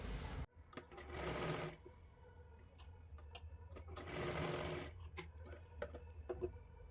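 A sewing machine stitches tucks on a katori blouse in two loud bursts of running, each about a second long, separated by quieter handling sounds and a steady background hum.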